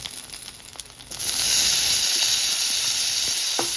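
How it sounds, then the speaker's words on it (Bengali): Cumin and nigella seeds dropped into hot oil for tempering burst into a loud, close, steady sizzle and hiss after a quieter start; no voices. "এর মধ্যে ফোড়ন দিয়ে দেবো জিরে আর কালো জিরে অল্প একটু রান্ধে নিই"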